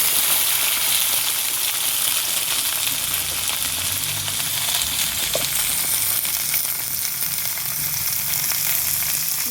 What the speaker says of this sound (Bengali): তো এখন এখানে বরবটিটা ঢেলে দিলাম তরকারিটা।